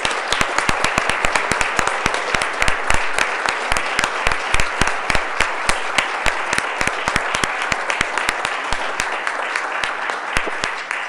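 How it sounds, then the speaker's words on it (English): An audience at a school board Women's History Month celebration applauds the honorees in steady, sustained clapping from many hands. The clapping is fairly near and lasts about eleven seconds with no one speaking over it. "Let's have a final round of applause for all the honorees."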